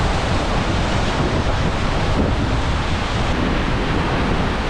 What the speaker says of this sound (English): I've decided I gotta go a little closer to this waterfall.